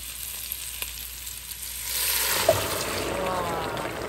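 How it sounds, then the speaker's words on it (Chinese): Chunks of taro are stir-fried in hot oil for stewed pork ribs; after a quiet start, a loud, close sizzle swells up and holds to the end. "适当的煸炒一会儿呢，我们就可以把刚才那锅排骨啊倒进来喽"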